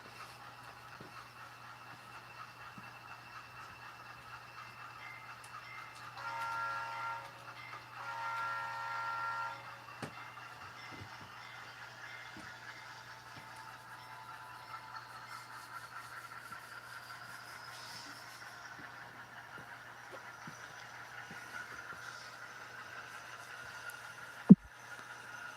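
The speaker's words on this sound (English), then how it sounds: "let's see if we can bring this rickety train up to speed" Faint mechanical whir and clicking of a rickety model railroad train running on a layout, with a low steady hum, a brief louder buzzing stretch, and a sharp knock near the end.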